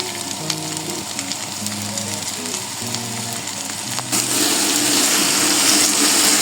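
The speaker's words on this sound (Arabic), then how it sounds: "هبدا احط الفراخ وابدا اقلب فيها واحط التوابل" Chicken pieces frying in a pot of softened onions while being stirred, with curry spices about to go in; a steady, close sizzle with scraping stir noises, growing louder and more intense in the second half.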